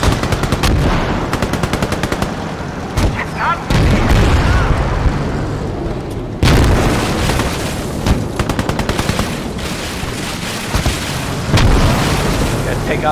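Heavy battlefield din from the Call to Arms: Gates of Hell video game, with booming mortar blasts landing amid rapid machine-gun bursts and scattered gunfire, loud and continuous with sharp hits around four, six and a half, and twelve seconds.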